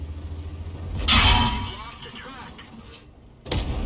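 Tank cannon firing in a tank video game, FV217 Badger: a sharp blast with a rolling rumble, then a second report near the end, under a commentator's voice.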